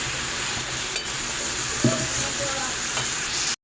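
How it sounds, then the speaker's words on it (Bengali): Mixed vegetables for a home-style Bengali five-vegetable dish are stirred and fried in a pan, giving a steady close sizzle throughout with a few brief spatula scrapes and knocks. "সবজিগুলো ভালো করে মিশিয়ে নিয়েছি।"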